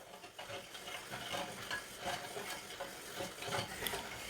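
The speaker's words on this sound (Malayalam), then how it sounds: "പഞ്ചസാരയും ചേർത്ത് നന്നായിട്ടൊന്ന് മിക്സ് ചെയ്തെടുക്കാം" Milk and sugar being stirred in a pan for tender coconut pudding, giving repeated soft scraping strokes at a steady rhythm over a faint sizzle, close and moderately quiet with no talking.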